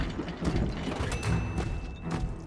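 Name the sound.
ink machine mechanism releasing a wrench in Bendy and the Ink Machine video game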